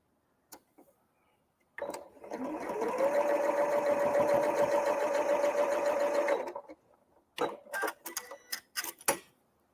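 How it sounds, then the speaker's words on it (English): Sewing machine stitching a quarter-inch quilt seam, a steady mechanical whir that runs for about four and a half seconds after a quick start, followed by a few clicks and handling knocks. "I'm going to sew that 1/4 inch again because it was a little"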